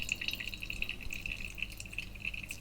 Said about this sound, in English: So I'm just going to pour this very gently, very slowly.